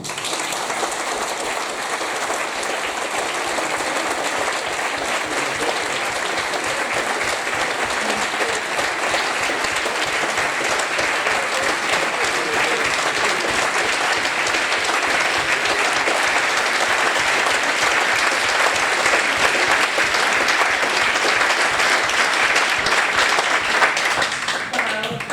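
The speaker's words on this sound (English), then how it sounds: "I think you can tell by the warmth of the applause just how much your words have struck home" Warm audience applause at a COP26 climate event: dense, sustained clapping from a large crowd, loud and even throughout, swelling slightly toward the end before fading.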